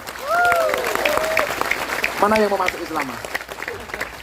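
Audience applause at an Islamic religious gathering in Changhua, Taiwan, with clapping running steadily beneath a voice speaking over it throughout.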